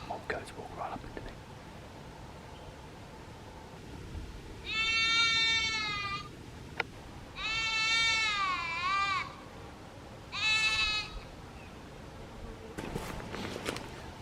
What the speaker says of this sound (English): Mob goats walk right up into me.